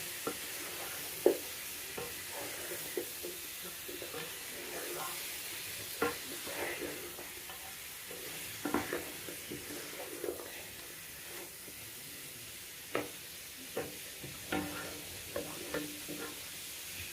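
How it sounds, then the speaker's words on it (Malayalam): Food frying in a pan is stirred now and then. Soft, intermittent scrapes and taps sound over a quiet, continuous low sizzle that runs throughout. "ഇതൊന്ന് ഇളക്കി കൊടുക്കാൻ ഇങ്ങനെ ഒന്ന് ഇളക്കി കൊടുക്കാം"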